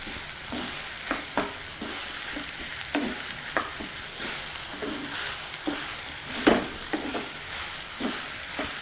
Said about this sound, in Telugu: మొత్తాన్ని ఒకసారి బాగా కలుపుకుందాం.